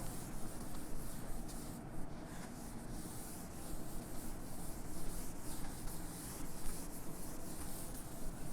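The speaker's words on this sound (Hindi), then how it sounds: "मैं इसको रब कर रहा हूँ" Writing being rubbed off a board during a Class 12 maths lesson: a continuous, close scrubbing and swishing with slight rhythmic strokes, steady in loudness throughout, with no talking.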